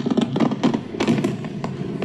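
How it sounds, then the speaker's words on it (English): Recorded fireworks noise is played for dog training, giving a rapid series of sharp pops and thumps at a moderate level with no talk over it. "At the height of the fireworks."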